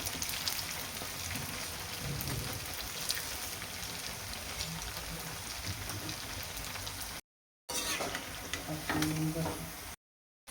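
Medu vada deep-frying in hot oil on a high flame, a steady dense crackle and hiss like rain that runs throughout, briefly cut by two short gaps.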